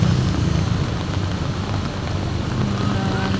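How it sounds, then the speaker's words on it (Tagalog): Steady, even hiss of light rain falling on surfaces, continuous and unbroken throughout. "hindi gaano malakas ang ulan"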